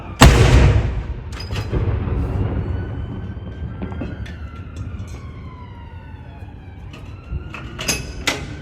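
A Royal Artillery gun salute at Edinburgh Castle for the King's birthday fires one loud, sharp report, followed by a long rolling echo and some fainter distant bangs, with tonal siren-like sounds drifting in the background.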